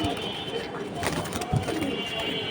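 Racing pigeons coo softly at a pigeon sale, low murmuring calls heard faintly behind close, continuous talking in a noisy setting.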